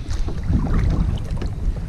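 A Walmart kayak paddled on choppy lake water in gusty wind over 10, with loud, close wind buffeting and low water sloshing against the hull throughout.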